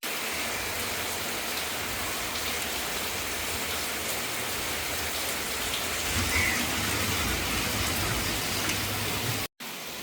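Heavy rain pours steadily outdoors near a house, a dense, loud, unbroken hiss that continues throughout with only a brief cut near the end.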